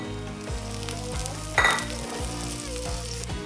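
Peas hit a pan of softening onions with a steady close sizzle, a brief louder hiss and clatter as they land, then continuous frying under quiet music.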